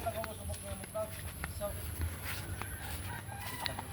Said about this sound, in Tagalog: At may manok pa siya panabong.